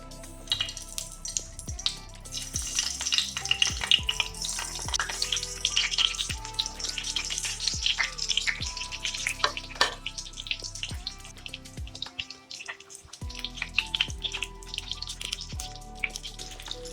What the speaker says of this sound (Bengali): বেগুনে অল্প নুন হলুদ মাখিয়ে নিয়ে এবার বেগুনগুলোকে ভেজে নিতে হবে।